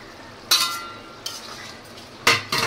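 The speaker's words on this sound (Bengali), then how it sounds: "মাছগুলো দিয়ে দিচ্ছি ঝোলের মধ্যে।" Tangra fish pieces drop into a simmering curry with a few separate splashes and utensil clinks, four distinct bursts separated by quieter pauses, heard up close with no talking.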